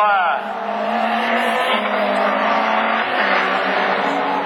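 Division 4 rallycross race cars at Lessay roar past in a loud, sustained engine drone with rising and falling pitch and hints of tire squeal, close and continuous throughout.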